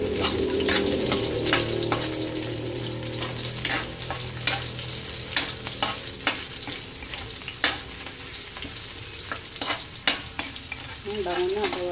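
Onions frying for ginataang langka, jackfruit cooked in coconut milk, a continuous close sizzle broken by repeated sharp spatula scrapes and clacks against the pan, with a faint watery trickle near the end and no talking.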